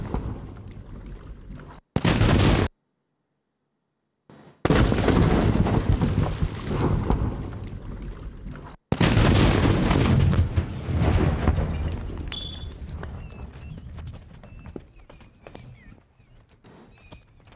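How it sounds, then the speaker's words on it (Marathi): Gelatin explosives blowing up sand-dredging boat engines, heard as loud, broadband blast roars that cut in abruptly with a silent gap between them, followed by a long rumbling decay. "जिलेटिनचा स्फोट करून 4 इंजिनही उडवले, 20 तराफे जाळून नष्ट केलेत"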